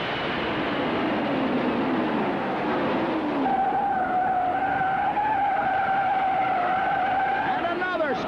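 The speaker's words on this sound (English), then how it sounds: "And another spin out in the third turn." Tires of a 1967 Indianapolis 500 race car skid and squeal in a long sustained screech as it spins out in the third turn, loud over steady engine and crowd roar, with a commentator talking throughout.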